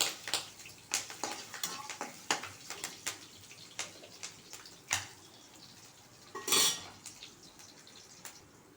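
Onion, garlic and green chillies fry as a tempering for ponnanganni greens, a faint sizzle under a run of regular spoon-on-pan scrapes and taps, with one louder rattling clatter near the end.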